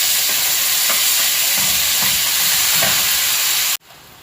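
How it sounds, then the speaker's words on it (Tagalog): Chicken feet and gizzards fry in a little oil for adobo, a loud, dense, steady sizzle with faint periodic stirring scrapes, close to the pan, stopping abruptly near the end. "Kasi mas gusto ko na ipiprito siya ng konti."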